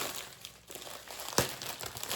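Close-up crinkling and tearing of plastic packaging, with a sharp rip partway through and continued rustling around it.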